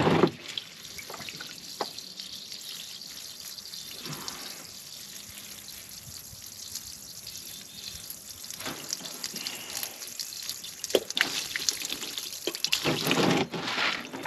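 Water draining from an abandoned GATR race truck into a pan, heard as a steady trickle with scattered drips and splashes, close by and fairly quiet, growing louder and fuller near the end.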